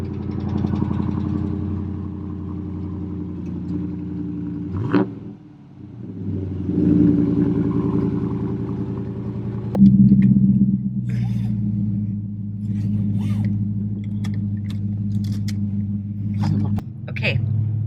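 A car engine idles with a steady low rumble throughout, a rental picked up on an Orlando, Florida holiday, with brief changes in tone and people talking nearby.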